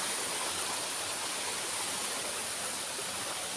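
Steady, dense rush of falling water, constant and broadband with no breaks, like a waterfall heard close by.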